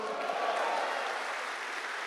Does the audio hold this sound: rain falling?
no